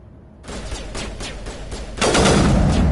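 Rapid automatic gunfire rattles in a Mass Effect battle, a sustained burst that grows heavier and louder after a couple of seconds, with no talk over it.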